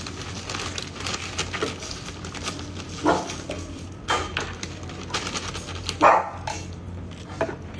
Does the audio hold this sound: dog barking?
yes